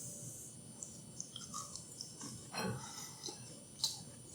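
A crunchy homemade chocolate chip cookie is bitten and chewed close up, with scattered crisp crackles and a louder crunchy burst midway, then a sharp final snap, with no talking.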